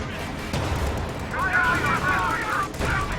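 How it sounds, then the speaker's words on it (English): Battle sounds from Company of Heroes 2, with an anti-tank grenade blast and gunfire striking a Command Panther tank, a dense rumbling wash of explosions and shots with a sharp crack near the start, heard under talk. "anti-tank grenade goes off on the Command Panther and actually manages to penetrate along with one of the shots from the M1"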